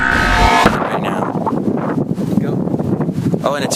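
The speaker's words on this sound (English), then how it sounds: "it's windy here at the park today" Wind buffets a microphone outdoors at a park, a loud, continuous low rumble running under a person talking.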